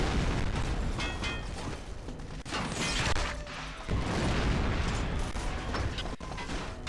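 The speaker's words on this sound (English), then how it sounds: "I gotta start throwing grenades like crazy here." Grenade blasts and crashing destruction in the video game Goldeneye: Rogue Agent, set in a volcano lair, with several loud bursts and debris noises rolling over dense continuous game action and music.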